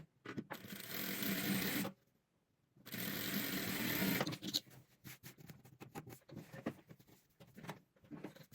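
A sewing machine stitches an eight-point star rug in two long, steady motor runs separated by a short pause, followed by fainter clicks and handling of the fabric.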